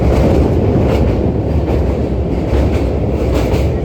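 The Gour Express, hauled by a P7 locomotive with LHB coaches, crosses the Jubilee railway bridge over the Ganges, heard from inside as a loud, continuous rumble with steady rhythmic wheel clatter and rushing air.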